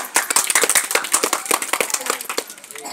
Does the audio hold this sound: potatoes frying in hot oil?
no